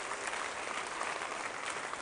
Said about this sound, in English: You are not clapping for me. You are clapping for Jesus.